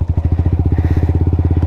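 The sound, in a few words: motorcycle riding on a rough road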